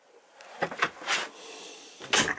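A drawer under a sink slides open during a water filter installation, with a few short wooden knocks and a sliding scrape, close and fairly loud.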